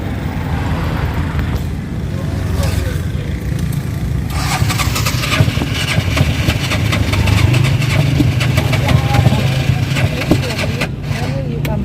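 Auto rickshaw engine running steadily during a ride, a continuous low rumble with road noise throughout, while people talk over it.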